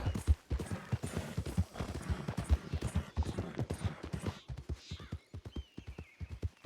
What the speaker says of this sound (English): This horse does not dodge carts at all.